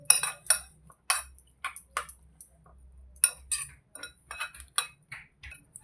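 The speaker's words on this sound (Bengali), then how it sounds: "এবার আমি এতে ডিম ফাটিয়ে দিয়ে দেবো। এটাকে এবার ভালো করে মিশিয়ে নেব।" Egg and chopped onion being beaten together in a bowl with a utensil, giving a series of sharp, irregular clinks and taps close by, alone without talk.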